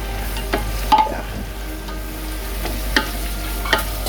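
Onions fry in oil for a Ugandan pilawo of meat and rice, a steady close sizzle with occasional stirring clicks and scrapes from a spoon in the pot.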